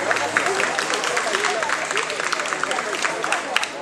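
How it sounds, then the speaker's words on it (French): Spectators at a self-defense academy demonstration applaud loudly, a dense crackle of clapping with sharp individual claps standing out, a faint voice or murmur running underneath. "Alors pour les encourager d'applaudir très fort."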